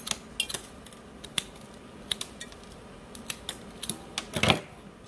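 Scissors snip through flower arrangement sticks in a series of sharp, irregular clicks, close and fairly quiet, with a louder cluster of cuts near the end.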